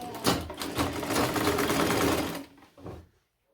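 A sewing machine stitches the shoulder seams of a baby's A-line dress at a 1/2 inch allowance, running steadily for about two and a half seconds, then a short final burst before stopping.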